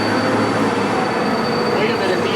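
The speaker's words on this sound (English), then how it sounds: "Wait a minute, the L train went over the side." Loud, continuous rumble and rolling clatter of the L train crash effect on the Universal Studios backlot tour, a steady heavy rail roar with metallic screeching, sustained throughout with no break.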